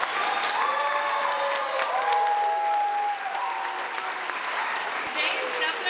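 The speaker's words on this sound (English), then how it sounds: "can we give our graduates one more round of applause?" An audience at a kindergarten graduation gives steady, dense applause that lasts throughout, while a voice speaks faintly underneath.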